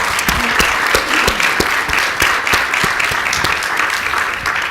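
Applause from a forum audience for the speakers at the close of a university-system convening, sustained dense clapping with sharp individual claps throughout, loud and steady.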